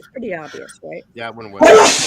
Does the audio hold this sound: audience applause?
no